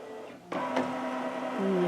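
A computerized quilting machine stitches out the final pass on sashing, its motor whirring in a steady, close mechanical hum with rising and shifting tones and no speech.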